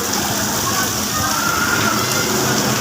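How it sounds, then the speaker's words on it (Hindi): Rain pattering on rooftops along a street in Karachi, a dense, steady hiss of falling water filling the scene at close range without pause. "अभी बस टिप टिप जो छतों पे चल रहा है वो चल रहा है"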